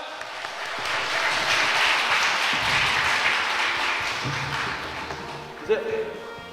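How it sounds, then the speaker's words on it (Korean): A church congregation at a gospel concert claps loudly and continuously, a thick wash of applause that swells and then tapers, with a brief voice breaking in near the end. "큰 박수로 시작하겠습니다"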